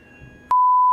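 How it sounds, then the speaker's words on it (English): A fire alarm sounds a single sustained electronic beep at one steady pitch, starting abruptly halfway through and holding loud and close until the end, after a quiet room background. "So that's the fire alarm."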